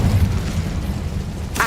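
Spell blasts from Bombarda and Confringo in Hogwarts Legacy erupt as a continuous, loud low rumble of explosions, with a brighter burst flaring near the end; no one speaks.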